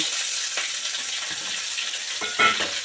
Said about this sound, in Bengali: আলুগুলো ছেড়ে দেব